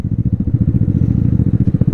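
A Vespa GTS300 scooter engine while riding gives a close, steady, rapid thudding putter with an even rhythm throughout.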